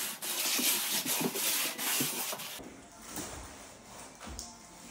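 A wood flat trowel scrapes and rubs across mortar for a Schluter heated floor system, giving repeated rough sweeping strokes, loud and close, that fade to a quieter scraping texture partway through.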